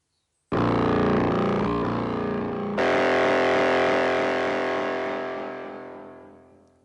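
A loud, buzzy Korg Volca Modular synthesizer tone with a folded, distorted wavefolder timbre sounds alone, then shifts to a brighter second note that slowly fades out.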